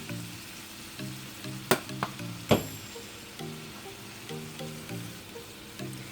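Garlic butter with Italian seasoning and parsley flakes sizzles steadily in a pan on the stove, a soft continuous fry broken by a few sharp clicks and taps of a utensil.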